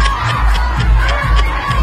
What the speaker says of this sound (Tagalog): Ang sigaw ng mga kababayan sa Hong Kong ay Duterte! Duterte! Yun ang sigaw nila.